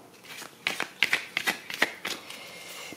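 Tarot cards are shuffled and drawn in a run of crisp, close riffling snaps and flicks, irregular bursts with short pauses between.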